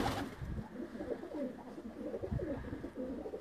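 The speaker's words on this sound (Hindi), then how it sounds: "ये भी मलक साहब के केज का एक ब्रीडर कबूतर है।" A caged breeder pigeon, given as a gift, coos softly in a steady run of low rolling calls, faint and fairly close against quiet background noise.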